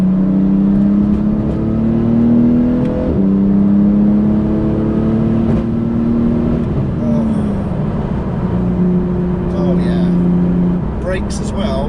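A Porsche GT2 RS accelerates hard and revs for an overtake, its engine note climbing steadily through the gears with shift breaks, loud and close from inside the car, while people talk over it.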